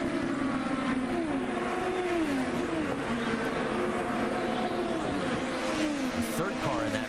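IndyCar race cars scream around the oval at the 2012 Milwaukee IndyFest, their engine notes rising and falling as they pass in a steady roar, with race commentary talking over them throughout.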